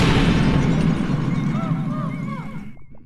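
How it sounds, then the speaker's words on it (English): Man-at-Legs boss from Pikmin 2 exploding: a loud, booming blast with a long rumbling decay, bright sparkling chimes rising over the fading explosion before it cuts to silence. "And then we get a great fanfare of it not holding it anymore and explode."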